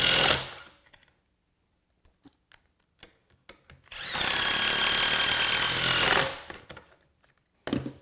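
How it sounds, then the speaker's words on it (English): A power driver sinks 1¼-inch fine-thread pocket-hole screws into a wooden picture frame: a brief whir at the start, a few small taps, then a sustained loud two-second drive, and a final short burst, close by. "I'm using 1¼-inch fine thread screws to hold everything together."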